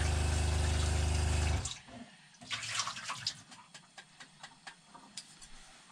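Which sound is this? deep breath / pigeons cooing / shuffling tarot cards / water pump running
water pump running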